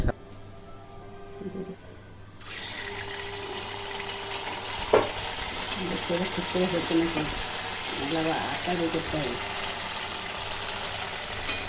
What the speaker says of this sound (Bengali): এইভাবে তেলে দিয়ে আমরা ছানাগুলোকে ভেজে নেব।